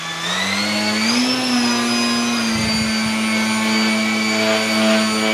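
Electric motor of an E-flite Eratix 3D 860mm RC plane throttled up, a loud, close, steady high whine that rises in pitch early on and then holds.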